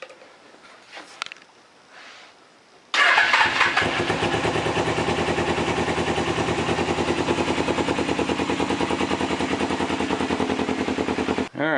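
A custom dual sport motorcycle engine with a freshly patched exhaust fires up after some quiet fumbling and idles loudly and close by, its exhaust putting out a rapid, steady chugging pulse.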